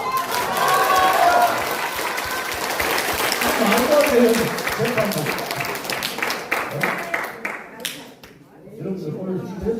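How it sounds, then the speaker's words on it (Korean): A live audience at a Korean political talk show breaks into loud, dense applause and cheering that runs for about seven seconds under a voice, then thins out as his speech carries on. "박수 한번 쳐주십시오"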